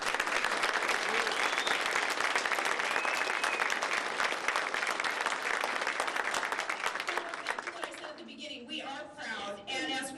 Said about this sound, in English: join me in a round of applause for those in the United States military